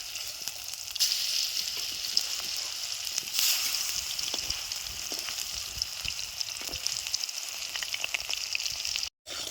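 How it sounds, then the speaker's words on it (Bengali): Steady, crackling sizzle of eggs frying in a pan, continuous and close, with a brief dropout near the end. "ডিমগুলো দেখেন কত সুন্দর ভাজা হয়ে গেছে"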